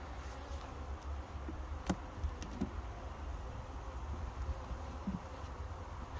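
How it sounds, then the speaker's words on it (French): Honeybees buzzing steadily as beehives are opened during a September queen change, a dense, continuous near swarm drone with faint clicks and knocks of hive handling, no talking. "donc on commence à ouvrir les ruches."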